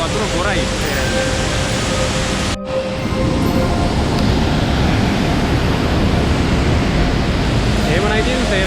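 Sera Ella waterfall pouring in heavy rain, a loud, steady broadband roar of falling water that fills the whole scene, with a brief dropout near the start before the rush resumes unchanged.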